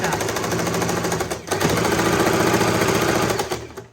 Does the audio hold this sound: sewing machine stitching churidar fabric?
yes